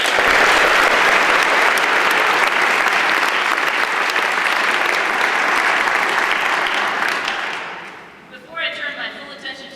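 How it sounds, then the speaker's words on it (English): Audience applause at an 8th grade graduation ceremony, a loud, dense roar of many clapping hands that holds steady for about seven seconds, then fades out into quieter room sound with a voice starting up. "let's give them a round of applause"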